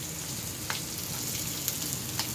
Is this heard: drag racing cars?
no